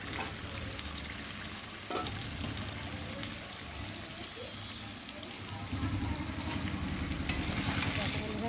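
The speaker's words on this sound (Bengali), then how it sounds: "ভেজে রাখা আলুগুলোকে চিকেনের সাথে দিয়ে আরেকটু কষিয়ে নেব।" Fried potatoes and chicken sautéing in a pan give a steady close sizzle with stirring scrapes and clinks, growing louder and busier partway through.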